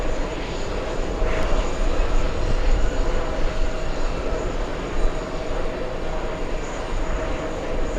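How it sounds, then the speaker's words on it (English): A Boeing 777 arriving from Doha at New York JFK gives a continuous, fairly loud jet rumble that swells slightly and then eases, with a faint hint of background voices. "We have an arrival flying in from Doha, a 777"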